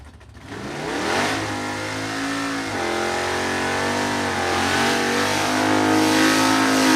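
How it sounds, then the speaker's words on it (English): A gasser drag race car does a burnout at a vintage drag race at Byron Dragway, its engine roaring loud and close with rising, revving pitch sweeps, then holding a sustained, harsh howl over tire noise. "Was that a burnout to your satisfaction?"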